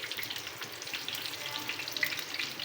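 Stuffed green chilies fry in a pan with a continuous soft sizzle and scattered crackling pops, close and fairly quiet, with occasional faint stirring.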